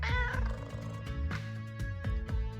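A cat named Prosper meows in the Choices game, a loud, drawn-out, tonal meow and a few shorter cries, close and clear, with no talk over it.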